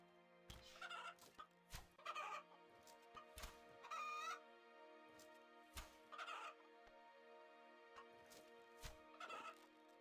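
Chickens clucking and gobbling in the video game RuneScape 3, repeated short clucks and squawks at irregular intervals over a steady tonal game music background.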